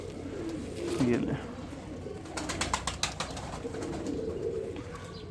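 A pigeon coos softly while being held in hand, with a few low coos near the start under someone talking nearby.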